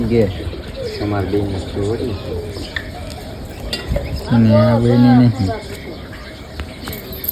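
Pigeons coo in low, throaty bursts, with a longer, louder coo near the end, set against a busy background with people talking.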